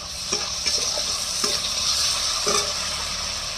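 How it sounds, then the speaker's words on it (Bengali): Prawns fry with ginger garlic paste in a pan: a loud, even sizzle runs throughout, broken by several quick stirring scrapes and taps, with no voices. "এই যে বন্ধুরা দেখুন চিংড়িটা ভাজা হচ্ছে, এই সঙ্গে দিয়ে দেবো আমি আদা রসুনের পেস্ট"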